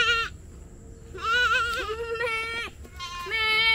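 Several goats bleat loudly at close range in a goat pen, with wavering nasal calls in long overlapping bursts separated by short pauses.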